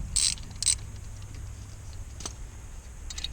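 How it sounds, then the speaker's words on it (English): A ratchet with an 11mm socket works on a brake caliper of a 1998 VW New Beetle, giving a few faint, brief bursts of clicking separated by a quiet, low hum. "Get your 11mm socket."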